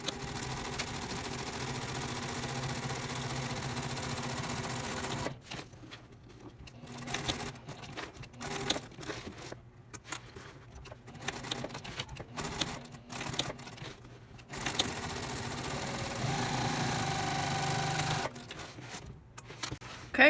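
A sewing machine stitches up the seam of a tall tote bag, running in steady continuous bursts that start, stop and start again, loud and close, with no talking.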